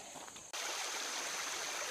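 Creek water rushes steadily past rocks in a continuous broadband flow, loud and close, starting after a brief quieter moment at the beginning and then holding constant.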